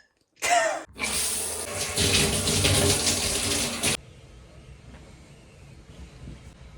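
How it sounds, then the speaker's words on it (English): Water from a tap rinses dyed hair: a brief splash, then about three seconds of loud, steady gushing that cuts off abruptly, leaving a quiet room tone behind. "so I just rinsed my hair"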